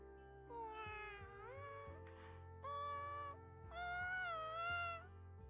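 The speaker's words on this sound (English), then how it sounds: "Straya meows in delight." Several drawn-out, pleased meows from a cat character in the video game Riddle Joker, rising and falling in pitch, heard over a soft steady background tone.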